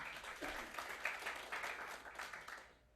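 Applause from the audience at a water district board meeting, a steady patter of many hands clapping in a room that fades out at the end.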